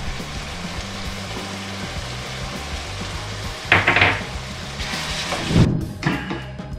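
Garlic dropped into a hot pan for an encebollado, giving a sizzle with clinks of utensil against the pan, close and moderate in volume.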